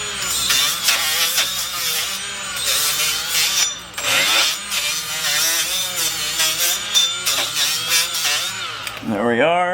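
Steady rubbing and scraping on the brake surface of a 2008 Lexus IS250, near and continuous for several seconds, with someone talking over much of it.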